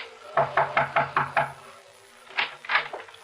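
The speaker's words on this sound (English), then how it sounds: "I crossed the driveway, rapped on the door." Knuckles rap on a door in a radio drama sound effect: a steady run of six close knocks, a pause, then two or three more sharp raps, with no talk.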